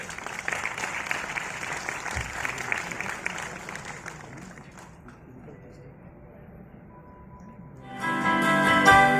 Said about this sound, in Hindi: मंच पर आपकी जोरदार तालियों के साथ